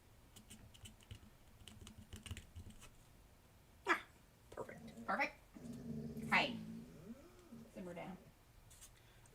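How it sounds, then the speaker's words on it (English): A dog whimpers and growls in the background during pen-and-stencil crafting on altered playing cards and papers, with soft rising and falling whines over scratchy writing or tapping noises while a person talks nearby. "I'm not sure if you guys can hear our dog in the background"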